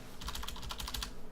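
Quick, close typing on a computer keyboard, a short burst of crisp keystrokes in fast succession with no talking.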